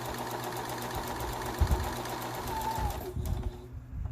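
A sewing machine back-stitching and then stitching forward over elastic on a fabric face mask, a steady close mechanical whir that stops just after three seconds, leaving faint handling noise.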